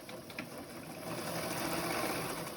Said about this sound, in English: And so then we stitch.